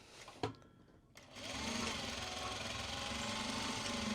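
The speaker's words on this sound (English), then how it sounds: "And then we go in and we sew." After a couple of soft clicks, a sewing machine starts stitching Japanese fabric for a bag and keeps up a steady, close, even whir to the end.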